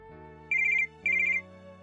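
A phone ringtone for an incoming call sounds in two bursts of a bright warbling electronic trill over a steady background tone, loud and close, with no talk.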